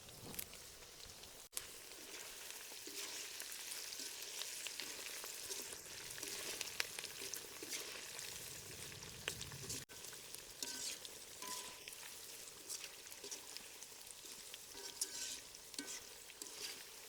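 Green chillies and curry leaves frying in hot oil, a steady loud crackling sizzle that runs throughout with occasional spatters and a couple of faint stirring scrapes, close up and without speech.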